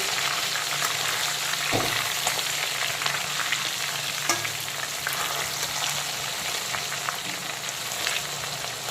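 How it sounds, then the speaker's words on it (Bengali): Pieces of bhola fish frying in a pan, a continuous close sizzle with a couple of brief knocks partway through, no talking. "এখন মাছের উল্টো দিকটাকেও একইভাবে ভালো করে ভেজে নেব।"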